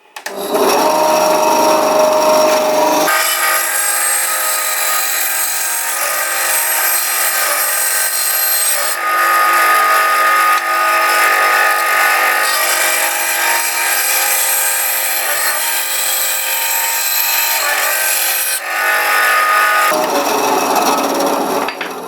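A high-pitched power tool whines loudly for a long stretch, grinding steadily through material with brief pauses near the start and end.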